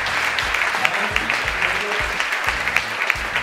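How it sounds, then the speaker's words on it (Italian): Audience applauding at a sports science summit, a dense steady clapping that fills the room for a few seconds at an even, moderately loud level with no speech. "Un applauso ai tre italiani."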